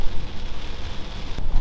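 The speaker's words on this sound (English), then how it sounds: "it's downpouring" A heavy rain downpour drums steadily on the roof of a van, a dense, constant hiss with no voices.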